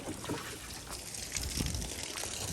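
Water drains out of a baby crocodile pond in South Florida, a steady close trickling and sloshing wash with no talking.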